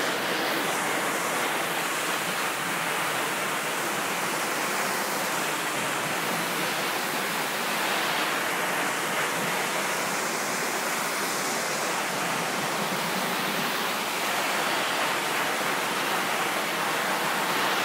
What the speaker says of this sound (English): we're just basically running all the dirty water off the surfaces